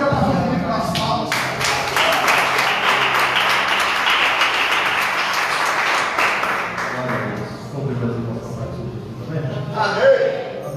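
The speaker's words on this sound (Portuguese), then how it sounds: "Vamos fazer o pastor Felipe nas palmas." Church congregation applauding for a pastor, dense steady clapping filling the space for most of the clip, then thinning out as voices and a few scattered claps take over near the end.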